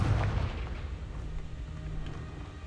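The Confringo fire spell blasting in the video game Hogwarts Legacy, a loud, deep booming explosion at the start that rumbles and fades into a sustained low roar.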